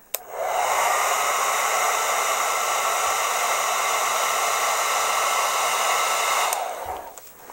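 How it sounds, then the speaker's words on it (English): A hair dryer blows steadily at close range drying glue on a pow wow dance bustle, with a loud, even whoosh, starting with a click and switching off near the end. "Can hit it with a hairdryer."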